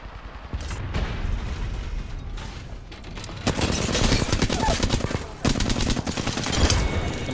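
Bursts of rapid automatic gunfire in the battle game Apex Legends, loud dense volleys with short pauses and overlapping shots, some sharper single cracks among them.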